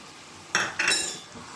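A spoon stirs ground spice masala in a pan for a dhaba-style chicken curry, giving two short scraping bursts with a faint sizzle close to the mic, and no talking.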